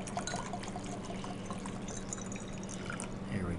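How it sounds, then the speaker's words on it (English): Water being poured into a second glass beaker at a lab bench, with a steady continuous splashing trickle close by and no break from start to finish. "I'm going to pour some water into a second beaker"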